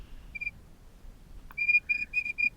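A small clay whistle gives several short, piercing high-pitched toots, one early and then a quick run of four near the end, close and clear against a quiet background.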